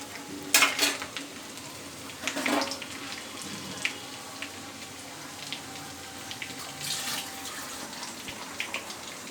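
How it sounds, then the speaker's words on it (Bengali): Chopped garlic frying in a kadai with black cumin and a green chilli, a soft steady sizzle with a few louder bursts of stirring early on, then settling into a quiet, even crackle. "এবার রসুনটা ভাজাভাজি হয়ে গেছে"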